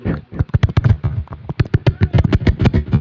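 A voice mimics kick-starting a Bullet motorbike that will not start, making rapid, loud, close sputtering pops in irregular bursts.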